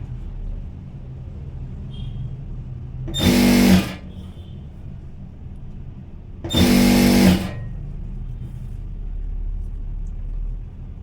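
A sewing machine stitching a saree fall runs in two short, loud bursts of rapid whirring, separated by quiet pauses with a low room hum.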